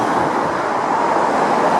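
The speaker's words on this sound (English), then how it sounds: "All the cars going past all along here that you can hear in the background." Cars pass along a road near a school, a steady broadband roadway roar, loud and constant with no break.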